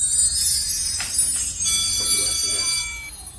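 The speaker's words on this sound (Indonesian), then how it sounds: "Geus bel, hayu ka kelas." A school bell rings continuously with a bright, shrill metallic tone that holds steady for several seconds, moderately loud, while faint background noise and movement sound underneath.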